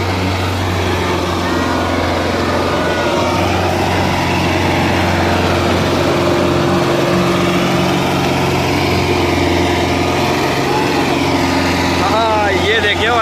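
A Solis tractor runs in the Yamuna river, its engine a steady loud drone with harmonic hum throughout the whole stretch, as someone talks over it.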